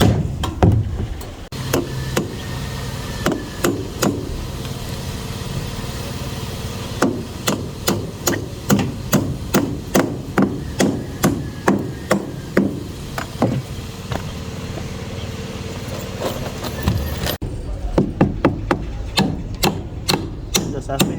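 Nails are hammered into a wooden board for decking formwork, with repeated sharp, close hammer blows in quick bursts of strikes and brief pauses between sets, steady across the clip with no talk.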